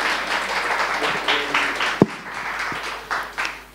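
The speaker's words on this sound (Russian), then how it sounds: "Ваши аплодисменты." An audience at a book presentation in a bookstore applauds, steady clapping from a crowd with one sharp louder clap standing out midway.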